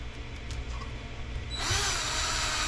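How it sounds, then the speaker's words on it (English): A power driver whirs as 2mm screws go into a sway bar cover on an Arrma Limitless V2 RC car, a faint short spin followed by a louder, brighter whine near the end. "Get one of the screws put all the way in."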